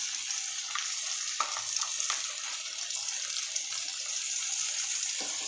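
Ginger garlic paste, tomato, turmeric and roasted cumin powder frying in a pan for street-style ghugni, a steady loud sizzle with occasional stirring scrapes and no talk.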